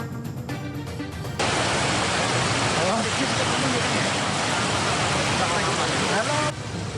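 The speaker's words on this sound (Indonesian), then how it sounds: "Jebolnya tanggul membuat air mengalir deras ke jalan dan permukiman warga." Loud, continuous roar of floodwater rushing out through a breached levee of the Cabean River in Tologoweru village, Demak, Central Java, pouring onto a road and homes; a steady dense wash that starts abruptly and holds throughout.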